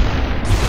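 A loud, low booming blast filling a brief moment of SUPERHOT, heavy and close with no talk.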